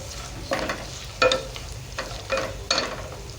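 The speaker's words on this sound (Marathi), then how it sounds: "तेलातच जरा शेंगदाणे टाकायचे" Peanuts dropped into hot oil in a pan for sushila pohe, giving a few brief bursts of sizzling and stirring at a steady rhythm over a low background hum.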